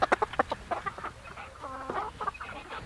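Meat chickens near a backyard coop cluck in rapid, choppy bursts, several birds close by with a short drawn-out squawk in the middle.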